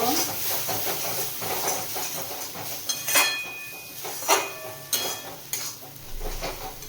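A spoon stirs cumin and coriander powder into chicken in a pan, soft scraping and clinks over a steady sizzle, with a few louder metallic taps near the end.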